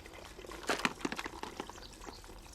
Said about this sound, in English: Lovely gurgle.